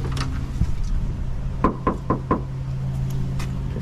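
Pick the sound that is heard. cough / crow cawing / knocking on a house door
knocking on a house door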